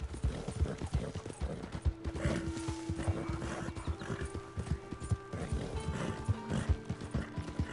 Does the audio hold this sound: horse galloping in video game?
yes